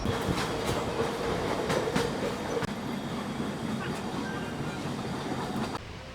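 Riding aboard the Darjeeling Mail at speed, a steady rumble of the carriage fills the scene with rhythmic clicks of wheels over rail joints, heard from inside the train.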